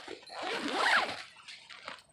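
A tent zipper pulled in one continuous close stroke lasting about a second, followed by a couple of softer short tugs.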